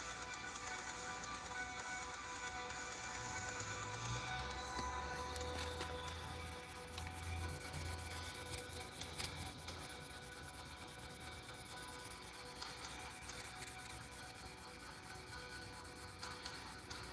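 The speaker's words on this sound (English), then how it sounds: "just sanding off some of these machine marks" Hand sanding across a wooden piece to remove machine marks, a continuous soft rubbing and scraping texture that carries on steadily at a quiet level with no talk.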